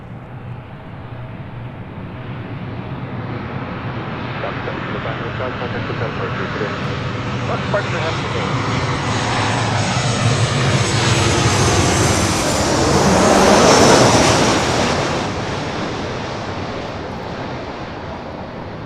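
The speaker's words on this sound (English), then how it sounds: "This is Southwest Airlines 1863 coming in from Oakland on a" A Southwest Airlines Boeing 737-700 from Oakland lands at LAX, its loud jet roar building to a peak and then fading as it passes close, with wind noise and talk layered over it.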